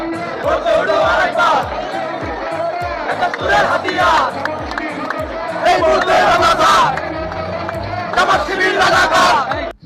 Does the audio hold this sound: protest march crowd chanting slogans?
yes